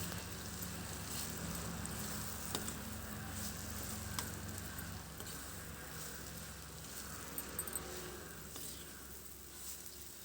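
Masala paste sizzles and fries steadily in a hot pan while cluster bean gravy curry is being cooked, a constant close crackling hiss with no pauses and no voices.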